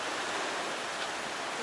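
Strong sea waves at a beach, a continuous, fairly faint hiss and wash of surf heard alone with no talking.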